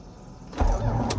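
A Toyota MR2, left in gear, jolts as its engine tries to start, a short mechanical lurch and whirring thump rising out of quiet cabin noise.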